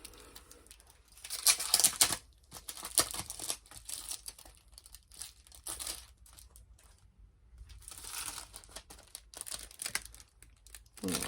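Plastic packaging for a Cricut Joy cutting mat being pulled open, with bursts of loud crinkling and tearing, a short pause, then more rustling and crumpling close to the microphone.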